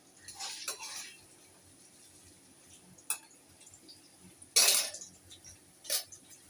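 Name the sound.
lightly fried paneer being transferred into a dish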